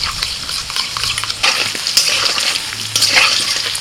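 Cauliflower florets frying in hot oil for malai cauliflower, a steady close sizzle with stirring and scraping bursts, no speech.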